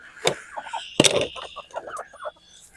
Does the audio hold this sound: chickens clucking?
yes